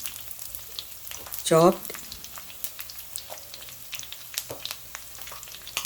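Curry leaves, ginger and garlic sizzle in a pan for a Kerala fish curry, a steady crackling fry throughout with a brief voice rising over it near the start.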